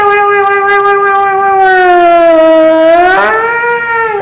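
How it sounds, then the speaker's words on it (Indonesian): A loud, steady siren marking imsak during Ramadan wails, holding a sustained tone, then sweeps upward near the end, sounding alone with no voices. "itu kalau imsak itu bunyi sirine"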